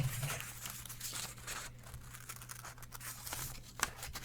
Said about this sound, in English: So I'll cut that out.